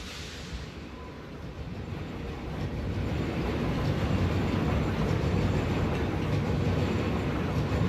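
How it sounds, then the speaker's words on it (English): Steady loud rumble of a moving train in the game Satisfactory, with a glitchy repeating noise, swelling slightly partway through and then holding continuous with no talk. "I'm hearing an audio glitch in the train sounds. There's a repeating noise they keep making."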